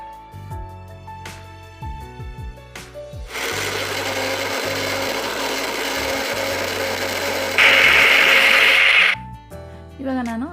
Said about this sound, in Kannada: ಆರಿದ ನಂತರ ಮಿಕ್ಸಿಗೆ ಹಾಕ್ಕೋಬೇಕಾಗುತ್ತೆ